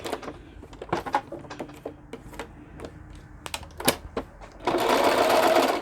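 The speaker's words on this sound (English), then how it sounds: "that's what we got, is you get to hear me sew" A sewing machine stitching in irregular short bursts of rapid mechanical clatter, close by, ending in a louder continuous run of steady high-speed sewing.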